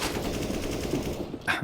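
Rapid automatic gunfire from Counter-Strike: Global Offensive during a Furia vs. Liquid tournament match, a steady stream of shots filling the clip, with a louder burst near the end.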